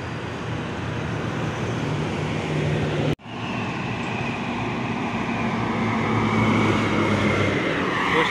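A Patas Jati Medali Mas intercity bus arriving at Purabaya terminal, its engine a steady, broad rumble amid terminal traffic noise. A sharp thud breaks in partway through, and the bus sound keeps going with no talking.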